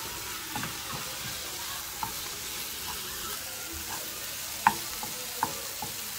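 Taco filling fries in a pan with a continuous soft sizzle, broken by occasional sharp clicks and scrapes of a utensil stirring it, with no one speaking.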